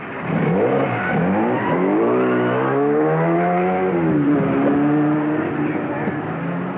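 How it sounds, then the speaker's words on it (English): Sports car driving a solo autocross course at the 1988 Canadian Solo 2 Nationals, its engine revving up and down steadily through a controlled slide, loud and close, with an announcer talking over it. "Brian Slade, out on the course right now. Nicely controlled slide"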